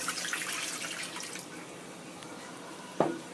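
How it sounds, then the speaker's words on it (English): Two cups of water poured into a pot on a high stove for cooking rice, a soft steady splashing stream that fades out, followed by a single sharp clink near the end. "So I'm adding 2 cups of water."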